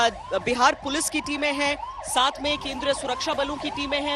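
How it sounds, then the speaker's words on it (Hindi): Several police vehicle sirens wail in overlapping rising and falling sweeps during a flag march patrol in West Bengal, loud and close, with someone talking over them throughout. "आप यहां पर भी वो तमाम सायरन सुन सकते हैं,"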